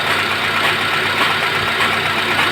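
A Mitsubishi Lancer engine idles with a misfire, a close, steady mechanical rumble with an uneven, stumbling knock running through it and no talking.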